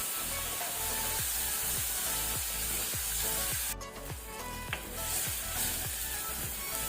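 Tomatoes with turmeric sizzle steadily in a pan over a medium flame, a dense continuous hiss with faint rhythmic stirring scrapes underneath and a brief dip partway through, heard close with no talking.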